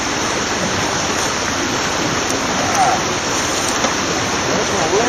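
Greywolf mini recirculating highbanker running, water rushing and splashing through the sluice in a steady, loud wash with a faint pump hum underneath.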